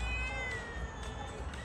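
A street cat of more than ten years gives a single drawn-out meow, fairly quiet and close by, with no talking over it.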